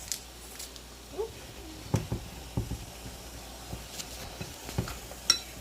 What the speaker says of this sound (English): So I'm going to just start stirring it around.